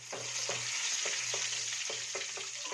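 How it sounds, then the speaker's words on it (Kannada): Chopped green chili peppers frying in a pan: a steady bright sizzle runs throughout, with quiet stirring clinks and scrapes every half second or so, close and alone with no voices. "ಮೆಣಸಿಕಾಯಿ ಹಾಕ್ಕೊತಿದ್ದೀನಿ."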